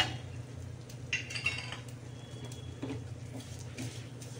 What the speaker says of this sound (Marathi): अगदी खसखस आपल्याला थोडीशीच भाजायची आणि त्याच्यात ड्रायफ्रूट टाकून घ्यायचे आपल्याला